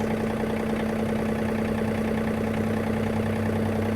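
A John Deere 3039R compact tractor engine runs steadily while the tractor creeps forward, a continuous, even mid-pitched drone with a strong low hum and no talk over it.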